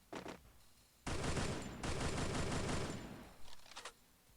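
Automatic gunfire in the shooter game Free Fire: a short burst, then a long sustained loud volley lasting about two seconds, followed by a few quick trailing shots.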